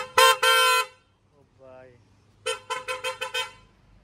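Factory-fitted horn on a new car sounds in two long honks, then after a short pause a quick run of five or six clipped toots, loud and close with no talk over it.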